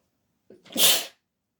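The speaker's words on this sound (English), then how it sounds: "sneeze on a Monday, sneeze for danger" A single loud sneeze up close, a short intake of breath followed by a sharp, hissing burst, then silence.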